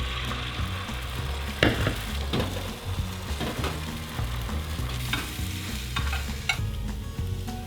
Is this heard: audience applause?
no